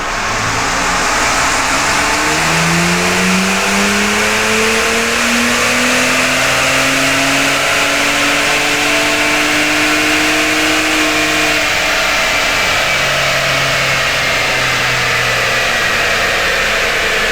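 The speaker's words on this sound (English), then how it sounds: "now we just need to fire the truck back on" A Ford Bronco Raptor truck's engine fires up and runs, its loud, close drone rising and falling through several revs before settling back toward idle.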